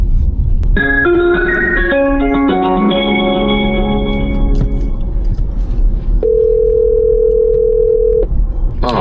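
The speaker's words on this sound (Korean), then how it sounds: "전화를 걸어서 여쭤보도록 하겠습니다" Loud electronic telephone tones of an outgoing call: a quick series of melodic beeps, then one long steady ringback tone, with a short beep at the end.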